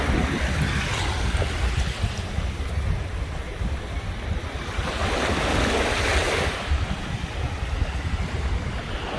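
Ocean surf rolls steadily onto a beach at Cancun's Hotel Row, a continuous broadband wash with swells and wind rumble, loud and close with no talk.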